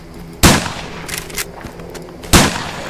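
Two sharp gunshots about two seconds apart in the Survive the Nights video game, loud and near, with fainter thuds and clatter between them.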